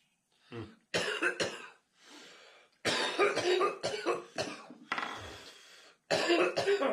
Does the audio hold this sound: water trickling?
no